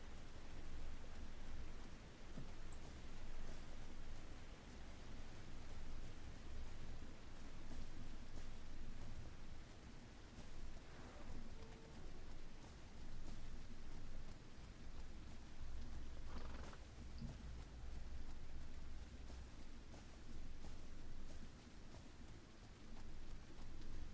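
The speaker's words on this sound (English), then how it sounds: "Yes, I know things are getting rained on." Rain falls steadily in a horse video game, a dense, even, soft patter that lasts the whole stretch with no voices.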